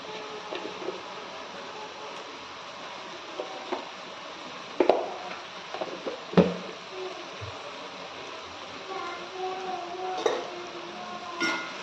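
A spoon clinks and scrapes against a pot while tomato khichdi is mixed with salt: irregular metallic taps and knocks, a few sharper clanks, over a faint steady background hum.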